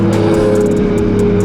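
A Lexus IS300 fitted with a 2JZ engine, turbo blow-off valve noted, holds a loud, steady rumbling rev close by, its deep drone continuous through the short stretch without voices.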